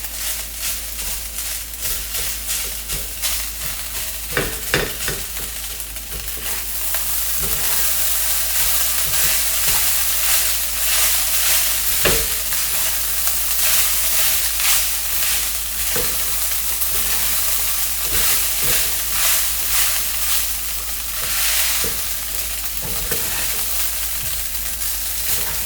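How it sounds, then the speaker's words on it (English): Leftover rice with toasted coconut is stirred in a hot frying pan: a loud, continuous sizzle runs throughout, broken by repeated spatula scrapes and clicks, with no talking. "Mix it really well"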